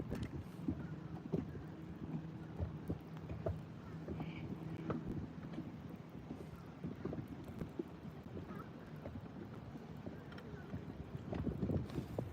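Wind buffets the microphone steadily on a boat out bass fishing, a low continuous rumble with faint knocks and water sounds throughout, slightly stronger near the end.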